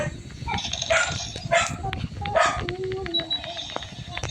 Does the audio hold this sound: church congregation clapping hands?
no